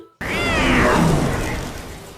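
A hairless cartoon cat lets out one loud, drawn-out meow that rises and then falls, close up over a noisy backdrop, with no talking.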